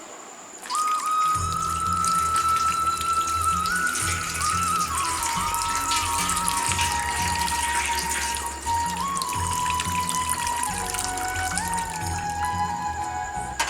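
Water pours steadily to bathe a deity idol sitting in a plate, a continuous close trickle and splash with a high tonal ringing running over it, alone without talk.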